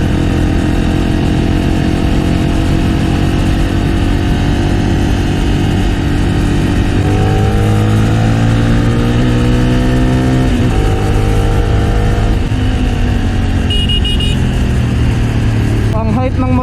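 A Honda AX1 250cc supermoto's engine hums and revs close by while riding, its pitch climbing through gears, with someone talking over it throughout.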